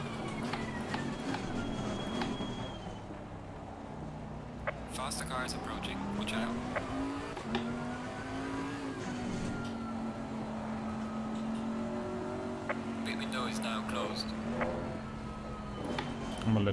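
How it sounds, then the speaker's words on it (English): A Maserati race car in Assetto Corsa Competizione, its engine note rising and falling through gear changes as it laps, with brief tire squeal, running steadily loud throughout, and a person speaking over it. "Sound of the Maserati."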